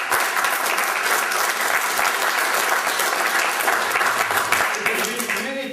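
An audience applauds Rabbi Cohen at a talk on anti-Zionism, a dense, steady wash of clapping that stays loud for the whole stretch. It tapers slightly at the end, and a voice can be picked out faintly underneath.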